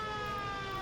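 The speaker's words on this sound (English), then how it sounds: "ambulance is slightly annoying" Ambulance siren in the city-building game Soviet Republic, a steady wailing electronic tone with stacked harmonics, loud and continuous for under a second with no talk.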